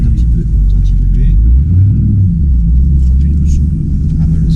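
A 2010 Ford Mustang V8 with a tuned engine and chassis rumbles close by, a heavy, deep idle burble that swells into a brief rev midway and then settles back into a loud, steady throb.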